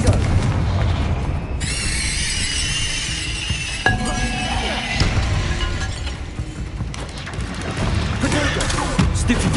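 Confringo spell blasts in Hogwarts Legacy, a run of sharp bursts with glassy, shattering crackles and booms amid busy combat effects, while a voice calls out spells over the fighting.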